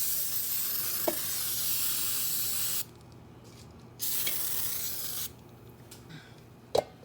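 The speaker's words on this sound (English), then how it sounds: "I'm going to also spray it with a little non-stick" Two long hissing bursts of aerosol non-stick cooking spray coating a pound cake pan, each lasting a few seconds, close and steady, with a short pause between them.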